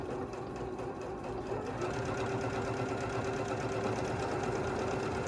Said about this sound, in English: So now we're ready to go. So we're going to start sewing.